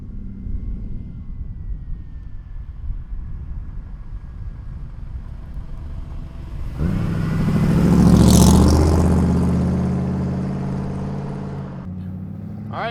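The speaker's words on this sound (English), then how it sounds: "let's go for a ride in a 40 Ford. Listen to that exhaust." Exhaust of a 1940 Ford street rod on the move: a steady low rumble from inside the car that swells into a loud, throaty burst under acceleration, then settles back into a cruising drone.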